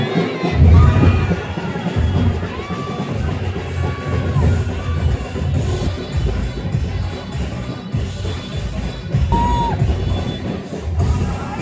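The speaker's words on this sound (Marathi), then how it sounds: "या विजयानंतर आमदार कुमार आयलानी यांच्या कार्यालयाबाहेर जल्लोष साजरा केला जातोय।" A large crowd cheers and shouts without a break outdoors outside the office of BJP MLA Kumar Ailani in Ulhasnagar after his election win, with voices layered loudly throughout.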